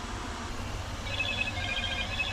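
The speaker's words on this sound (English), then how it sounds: "that would be my phone ringing" A telephone ringtone chimes faintly in repeated high bright tones, starting about a second in over a steady low background hum.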